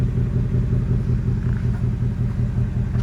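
A deep, steady engine rumble from a 2019 Ford Mustang GT California Special with active exhaust, a throbbing low-pitched exhaust burble, idling continuously and close by, with no voices.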